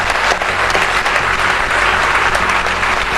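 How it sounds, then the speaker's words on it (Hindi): Loud, sustained applause from an audience at the Suryadatta National Award ceremony, dense clapping filling the hall without pause. "जिनके लिए चाहूंगी कि जोरदार तालियां हो जाए"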